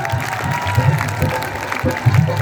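Audience applause during a Haryanvi stage performance in Haryana, a dense steady patter of many hands clapping through the whole stretch, with some crowd murmur mixed in.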